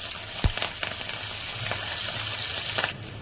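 Green chillies, slit lengthwise, fry in hot oil, giving a steady near sizzle with a sharp clack early on and a few soft utensil knocks throughout.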